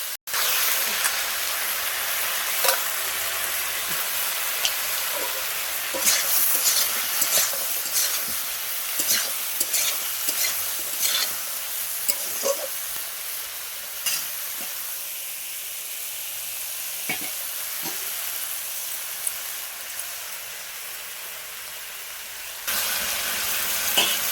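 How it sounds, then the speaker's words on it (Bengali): Salted vegetables stirred in a hot pan, continuous hissing sizzle with repeated scraping clicks of the spoon against the pan, close and steady, no voices. "সবজিতে নুনটা দিয়ে দিলে ভালো করে নাড়া হয়ে যাবে।"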